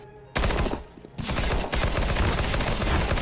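Counter-Strike: Global Offensive gunfire rings out in loud, close rapid bursts after a brief quiet start, with a short pause before the shooting resumes and continues to the end.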